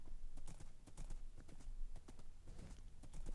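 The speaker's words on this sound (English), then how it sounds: "There's horses." Horse hooves clip-clopping in the Minecraft video game: quick, uneven hoof clops in a steady run, faint and close, over a soft background hiss.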